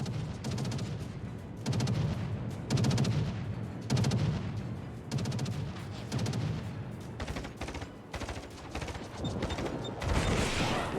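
Naval guns firing at a target in World of Warships, with repeated heavy booming salvos and clusters of rapid shots arriving in uneven waves, loud and close, with clanking mechanical noises between volleys.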